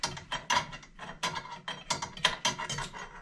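A crimped wire connector is pulled off a lug on a Gendex 770 X-ray switch, giving a series of small close scraping clicks and ratcheting snaps in irregular bursts, fairly quiet.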